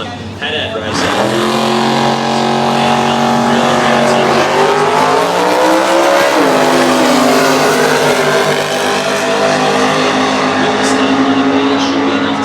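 Drag race cars roar down the strip at a winter drag racing meet, a loud, sustained engine howl that rises in pitch as they accelerate, steady throughout.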